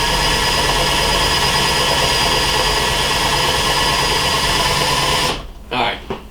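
Steady loud motorized whir of a spinning tool twisting a fly-tying brush runs continuously, then cuts off abruptly and leaves a few soft handling sounds.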